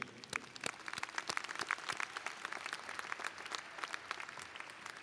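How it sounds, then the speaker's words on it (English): A big crowd applauds at a university graduation ceremony in an arena, a continuous wash of clapping with distinct hand claps popping out, moderately distant and even in level. "Their contributions to your success also deserve a round of applause and appreciation"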